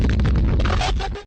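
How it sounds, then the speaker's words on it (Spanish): A single loud, booming explosion burst as a sound effect, with a rough, noisy blast sustained for about a second before cutting off abruptly. "todo empieza a explotar."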